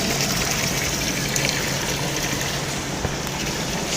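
Steady water jet issuing from an orifice on a jet velocity test apparatus, a continuous gushing, splashing wash of flowing water held close and even throughout.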